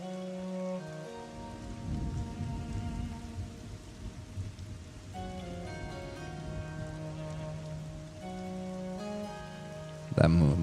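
A lightning storm in the Monsters and Memories game brings steady, close rain and thunder rumble over a sustained musical tone, ending in a sudden loud crack of a lightning strike.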